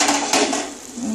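Metal pan lid lifted off a pot of okra curry on a gas stove, a short clatter and scrape of metal followed by soft sizzling, close and fairly loud.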